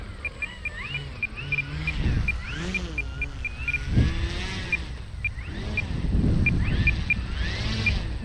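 E-flite Carbon-Z Cub SS 2.1m electric RC plane on a 6S battery taxiing, its motor whirring and rising in short surges over wind noise and outdoor background, moderately near.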